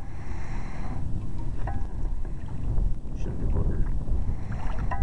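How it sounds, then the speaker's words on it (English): Wind blowing across a lake past a small fishing boat, a steady low rumbling buffet on the microphone with faint water movement, while someone speaks briefly. "Wind's blowing us really good"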